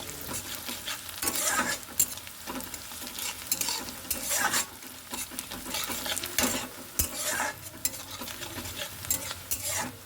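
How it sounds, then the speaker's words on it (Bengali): Onion and garlic frying in a pan for an aubergine bharta, a continuous sizzle with repeated scraping and stirring strokes of a spatula, fairly close and steady throughout. "পেঁয়াজের উপরে একটু রসুনটা দিয়ে দেবো, দিয়ে এগুলোকে একটু গোল্ডেন ব্রাউন করে ভেজে নেব"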